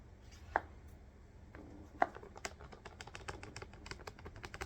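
Two sharp, louder clicks followed by a quick patter of small, light clicks and taps as a LARP arrow shaft sits in a square arrow head, close by and otherwise quiet.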